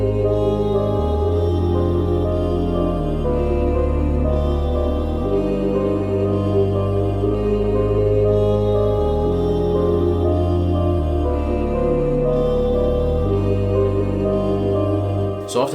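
Full UK-style beat with a deep sliding bass, layered melodies and vocal chops looping steadily and loud for about sixteen seconds, with no drums yet, ending abruptly.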